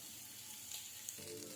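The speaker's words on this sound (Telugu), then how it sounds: "ఉల్లిపాయలు వేగిపోతున్నాయండి." Onions frying in hot oil for a tempering, a soft continuous sizzle with faint crackles, quiet and alone.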